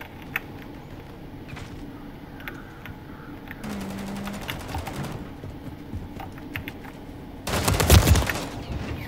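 Gunfire in the video game Modern Warfare 3: bursts of automatic fire with sharp rapid reports, a loud dense volley near the end, over steady game ambience.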